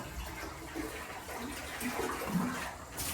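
Steady rushing water pours into a tub, a continuous splashing hiss at moderate loudness with no voices.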